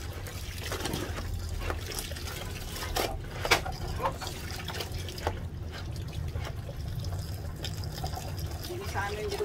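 Cloth being rinsed by hand in water: repeated splashing, trickling and sloshing close by, with a voice partly audible in the background.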